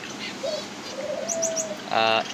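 Several birds chirp and coo in a farm enclosure, with short whistled tweets and a brief burst of harsh calls near the end over a steady background hum.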